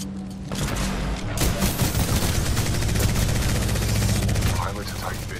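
Dense, continuous automatic gunfire in the Titanfall 2 campaign, loud rapid rattling bursts with heavy booms, and voices shouting over the shooting.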